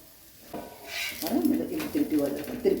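Millet adai batter cooking on a hot pan as it is turned, giving a soft, steady sizzle with light scraping beneath a person speaking.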